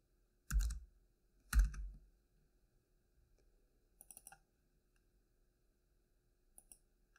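A folder name is typed on a computer keyboard, two heavy key thumps followed by short, light bursts of clicking keystrokes in an otherwise quiet room.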